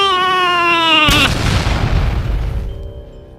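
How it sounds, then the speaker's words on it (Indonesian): Explosion sound effect in a fantasy audio story, a sudden loud boom that cuts off a sustained tonal sound, followed by a rumbling roar that slowly fades away. "Ledakan dahsyat mengguncang langit"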